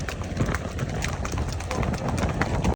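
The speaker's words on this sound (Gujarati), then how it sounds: "અને રેવળાલની ઘોડી છે ભાઈ." Hooves of a ridden mare clip-clopping at a quick, even pace, close and fairly loud, with voices talking faintly underneath.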